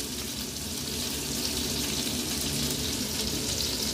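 Oil goes into a wok already hot from frying fish, ready for chow mein, giving a continuous loud hissing sizzle that stays even for several seconds with no speech.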